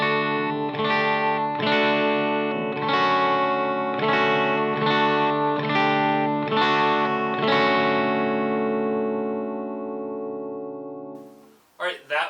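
Clean electric guitar tones played through a Weber Alnico Silver Bell speaker: a loud run of strummed chords and ringing notes with steady rhythm, sustaining and fading near the end before a couple of brief knocks.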